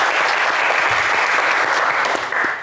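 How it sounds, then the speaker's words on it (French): A studio audience at a French game show applauds the teams, a dense, loud, steady clapping that fades slightly at the end. "On va les applaudir, oui, très très fort"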